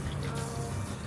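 Water pours steadily while someone's feet are washed outdoors near Phuket, a close, continuous splashing flow with no break and no talk over it.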